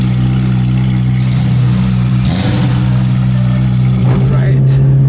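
A car engine idles steadily with a strong low hum throughout, then picks up with a brief rev near the end, heard up close while people talk nearby at a car meet.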